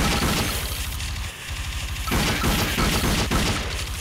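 Mounted gun firing in the VR shooter Dead Effect 2, a dense, loud stream of rapid shots with short breaks, heavy and close throughout.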